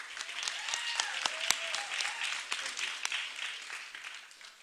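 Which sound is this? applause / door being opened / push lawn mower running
applause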